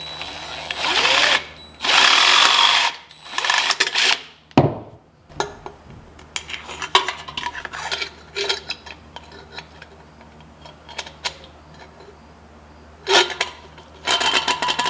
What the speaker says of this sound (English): Let's drill out a little bit right here.